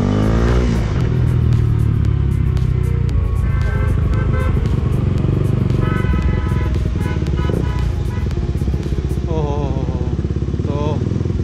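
A KTM RC200 motorcycle engine running close by with a steady, loud single-cylinder drone and a few small revs, with no break in the sound throughout.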